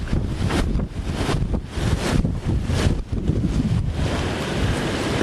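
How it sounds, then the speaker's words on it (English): A strong thunderstorm outflow gust roars past in Glasgow, loud buffeting wind battering the microphone in repeated surges over several seconds, close and with no talking. "That sound was the outflow from a strong thunderstorm."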